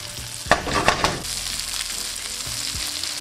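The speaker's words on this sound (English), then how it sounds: "I just want to do it for around a minute until our lamb is cooking, giving a nice sear on all the sides." Lamb chops sear in a hot pan, a close frying sizzle with a few clattering knocks and shifts early on, then a steadier, softer sizzle with occasional light bumps.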